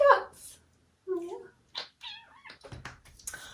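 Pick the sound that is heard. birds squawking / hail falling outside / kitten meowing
kitten meowing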